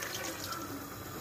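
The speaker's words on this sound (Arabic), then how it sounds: "نزيدو له الماء حتى يتغطى" Water poured into a pot of kabocha squash soup, a brief steady splashing rush with no talk.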